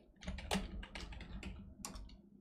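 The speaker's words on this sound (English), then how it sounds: "What am I typing today?" Rapid typing on a computer keyboard during game development work, a close, quick run of clicking keystrokes in uneven bursts with no talking.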